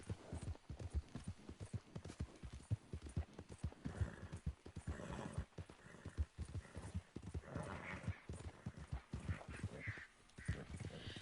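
Horse hooves galloping in the Red Dead Redemption 2 video game, a rapid clip-clop rhythm that rolls on continuously with an occasional whinny, fairly close and with no talk over it.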